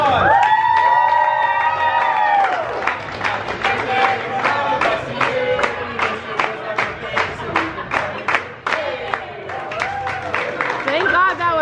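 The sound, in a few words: crowd applause and cheering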